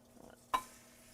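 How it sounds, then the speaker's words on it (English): Crumbled sausage meat, removed from its casing, drops into a pan on high heat with a single sharp hiss that quickly fades into a faint, steady sizzle, preceded by a few soft scraping sounds. "I'm just going to start adding my sausage meat removed from the casing"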